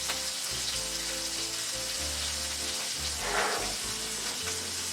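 Steak and mushrooms sizzling in a very hot pan, a constant close crackling hiss that swells briefly partway through, with low background hum and no talking.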